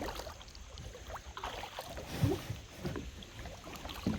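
Kayak paddling on Goose Creek river in Clay County, Kentucky: soft, intermittent paddle splashes and drips in the water, faint and close, over light wind and quiet surroundings.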